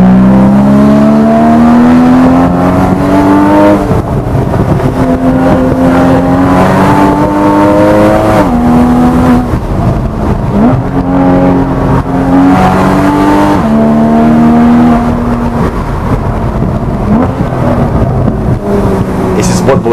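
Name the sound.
Porsche Boxster GTS six-cylinder engine roaring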